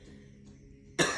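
A single sharp cough bursts out near the end after a quiet stretch, close and loud.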